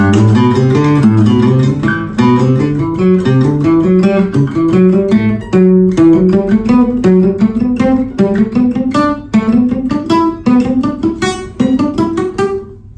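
A major scale picked on strings in overlapping five-note runs, climbing steadily at a brisk, even pace, loud and close with no voices.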